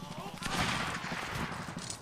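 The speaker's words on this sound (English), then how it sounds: "Keep shooting." Rapid gunfire crackles densely in a World War era Freikorps battle scene, sustained shots overlapping in a loud continuous fusillade with a voice speaking over it.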